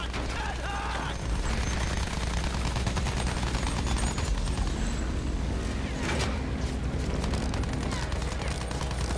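Dense, continuous gunfire rattles throughout a Battlefield 1 battle, a loud wash of shots and engine noise with no pauses.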